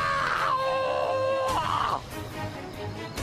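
A shrill karate-style yell rings out loud and close, a sustained strained cry that wavers and breaks off after about two seconds, followed by quieter rustling.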